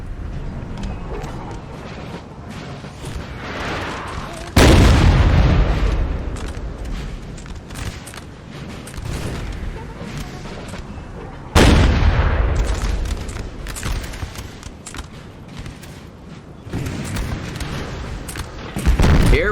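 Heavy cannon booms from a Napoleon: Total War battle roll out three times at intervals, each loud blast decaying into a rumbling tail over scattered distant gunfire.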